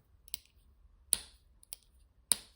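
Side click mechanism on an Otmog minimalist pen clicking, four sharp, close clicks in an uneven rhythm, quiet and crisp against near silence, with no talking.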